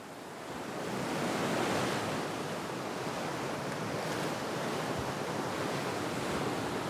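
Sea waves washing onto a beach at Limassol, Cyprus: a steady, broad surf wash with soft wind noise, continuous and fairly distant, with no voices.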